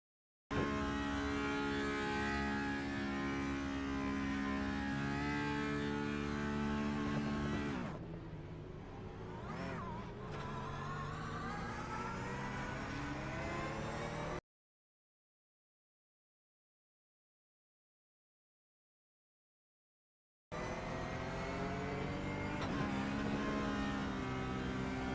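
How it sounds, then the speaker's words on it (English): In iRacing, a sim race car's engine revs hard and drones at length as its wheels spin, a loud, sustained mechanical whine that breaks off into several seconds of silence before the revving returns. "revving and spinning his wheels, as you'll see in a second"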